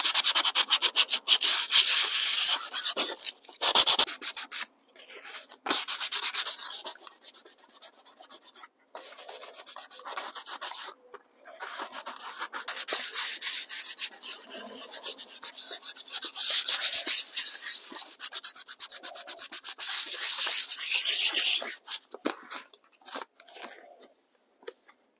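Hand sanding on a Rover 75 alloy wheel, a close, rough scratching rub in repeated strokes with short pauses between bursts, no talk.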